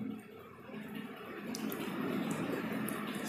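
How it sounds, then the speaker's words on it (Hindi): Warm water runs from a tap while an onion is washed, a continuous close stream that grows slightly stronger and carries faint splashes and drips, with no talking. "ये सब परतें निकाल करके इसको अच्छी तरह से गर्म पानी में धो लें।"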